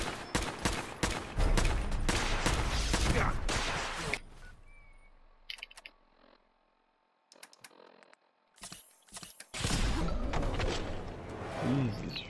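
Rockets fired in rapid succession in Fallout: dense, loud blasts and cracks fill the first few seconds. After a near-silent gap with faint clicks, another harsh burst of fire and noise follows.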